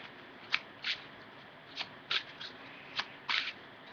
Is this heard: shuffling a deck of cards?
yes